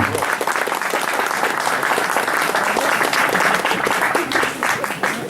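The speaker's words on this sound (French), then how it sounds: "Applaudissements à ces 5 Team RM." Steady audience applause fills an award ceremony for a 2017 challenge, many hands clapping loudly and evenly throughout without a break.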